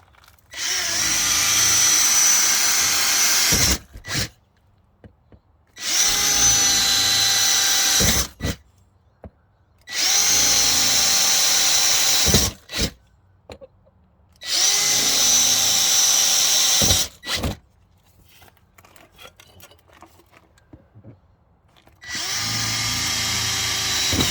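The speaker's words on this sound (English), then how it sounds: "pre-drill these holes." Power drill pre-drilling holes into a rotten camper wall during a jack repair, running in about five loud, sustained whining bursts separated by short pauses, up close with no talk.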